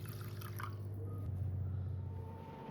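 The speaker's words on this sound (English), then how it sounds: "Now again add water and soak the rice for 30 minutes." Water poured into a pan of rinsed rice to soak it for a South Indian coconut milk rice, a steady close filling sound with a rising tone as the level climbs, no talking.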